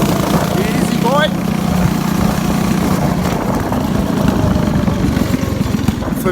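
A go-kart's 6.5 hp Predator engine idles close by with a steady, loud, low mechanical drone. It holds evenly for the whole stretch with no revving.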